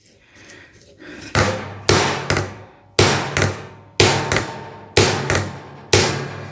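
A hammer knocks on a bolt threaded onto the rock shaft of a John Deere 3038e compact tractor, seven sharp metallic strikes spaced roughly a second apart, close and loud, with nobody speaking.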